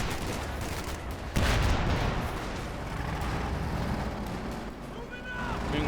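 High-explosive artillery and gunfire boom through a World War II real-time strategy battle, with one heavy blast followed by a rumbling barrage and scattered shots under steady game noise. A commentator talks over the whole battle.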